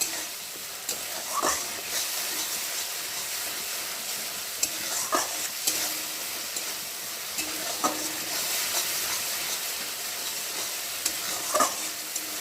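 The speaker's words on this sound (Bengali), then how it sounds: "দেখো, নাড়তে নাড়তে অনেকটাই শুকিয়ে এসছে সর্ষেটা।" Mustard paste fries in a pan while a spoon stirs it, soft steady sizzling with occasional scraping taps of the utensil against the pan, close and without talk.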